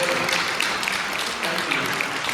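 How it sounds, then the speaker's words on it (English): A conference audience claps steadily in sustained applause after a talk, a dense patter of hands filling the room with a murmur of voices underneath. "let's give a round of applause to this great talk."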